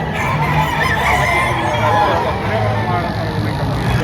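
A gamefowl rooster of the Pumpkin Sweater line at a busy Padre Garcia, Batangas fowl market calls amid a steady wash of crowd chatter and other birds clucking and crowing around it.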